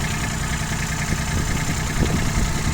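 An ISEKI TU135 compact 4WD tractor, fitted with a 120 cm rotary tiller, sits idling nearby with a steady, dense engine drone and faint low knocking pulses, heard alone.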